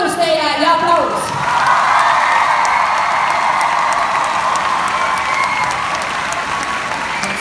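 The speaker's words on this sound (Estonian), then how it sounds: "Suur kummardus teile ja aplaus!" A dance school's winter concert audience breaks into applause, a brief spoken line giving way to sustained, loud clapping from a large crowd, with faint cheers and whoops mixed in.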